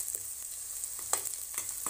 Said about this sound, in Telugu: ఇప్పుడు ఇందులో మనం కొంచెం కరివేపాకు వేసుకుందాం. ఇది బాగా వేగాలండి.